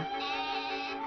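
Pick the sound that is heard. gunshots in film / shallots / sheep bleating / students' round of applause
sheep bleating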